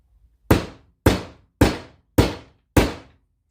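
A hammer strikes a socket to tap a new bearing into an LS engine rocker trunnion: five sharp, evenly spaced metallic knocks about half a second apart, close and loud, with no talking.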